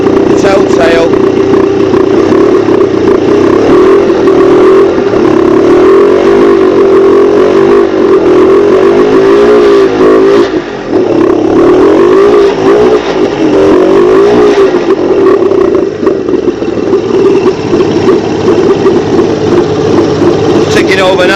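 Suzuki 85 hp outboard engine ticks over at a steady idle, a loud continuous close-up rumble with slight wavering, while people talk over it.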